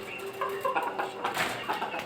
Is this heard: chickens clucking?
yes